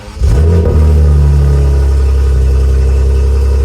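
BMW G80 M3 engine cranking to life and settling into a loud, steady idle with a deep exhaust drone, recorded close with no talking.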